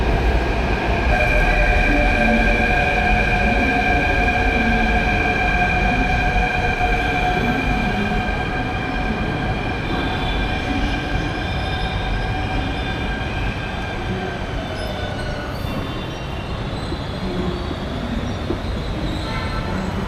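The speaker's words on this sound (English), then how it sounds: "The metro is headed to Badi Chopad." A Jaipur metro train rumbles steadily along the track, with sustained tonal whine and low rolling noise throughout, close and loud.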